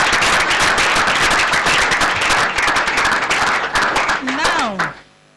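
Audience clapping at a Nigerian public-affairs radio programme, dense and continuous for about four seconds, then fading as a voice rises briefly near the end and the room falls quiet.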